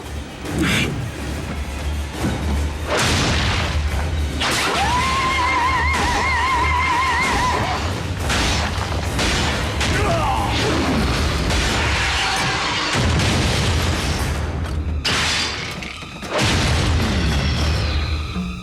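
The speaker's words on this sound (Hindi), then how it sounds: "उस पर ग्रेनेड फेंको।" A grenade blows up in the Transformers Prime cartoon, a heavy boom folded into a dense, loud mix of crashing impacts and mechanical effects that runs continuously.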